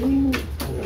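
A racing pigeon gives a single short, close coo, loud and clear with no other sounds around it.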